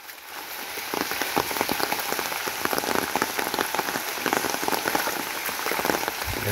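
Steady rain in Niteshwar village, Bangladesh, patters continuously on surfaces with dense close drops and a few sharper taps, loud and unbroken with no voices.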